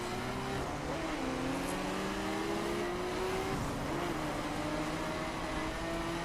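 Racing video game car engine droning steadily through a race in interior cockpit view, with rising and shifting engine tones layered over continuous track noise, no talking.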